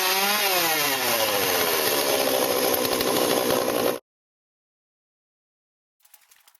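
Nearby chainsaw roars at high pitch, its engine note sweeping upward as it revs, then cuts off sharply into silence before faint scraping sounds at the end.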